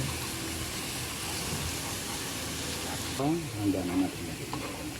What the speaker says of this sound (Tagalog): Papulahin lang po natin mabuti yung bawang or mag-brown.